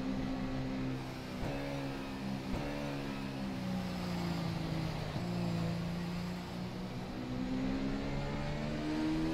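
A formula race car in rFactor 2 at Hockenheim holds a sustained high engine whine that climbs and drops with a few sharp gear-shift breaks, steady and loud throughout with no talk.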